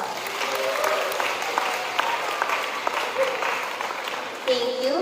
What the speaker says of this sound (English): Let's give thanks by giving them a round of applause.